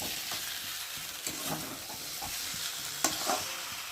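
Chicken being stirred and fried in a pan during home Bengali cooking, with soft scraping and stirring clicks over a quiet, steady sizzle, including one sharper clack near the end.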